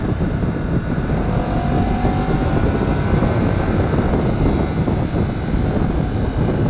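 A 2023 Honda CBR250RR motorcycle engine runs steadily with a continuous, slightly high-pitched whine over a deep rumble, loud and close, holding a constant drone without voices.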